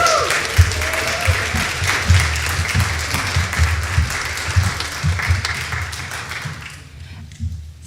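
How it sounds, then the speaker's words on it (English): A church congregation at a Unitarian Universalist service gives a warm round of applause for new members, with loud, close clapping that fades away into quiet at the end. "Can we now have one last big round of applause for our new members?"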